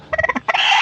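A small Shamo hen in a backyard gives a quick run of close clucks, then breaks into a louder, drawn-out squawk at the end.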